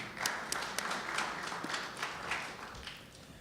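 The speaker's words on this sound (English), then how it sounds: "let's give our panelists a round of applause" Audience clapping for panelists at a Brooklyn community resource fair and block association forum, soft and distant with scattered individual claps over a roomy background.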